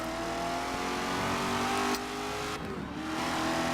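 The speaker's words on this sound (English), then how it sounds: "It's a V8 muscle car that is supercharged." A supercharged V8 muscle car in the video game Forza Horizon 3 roars steadily with dense low rumble, a brief sharp burst and a dip in pitch as it shifts, loud and close.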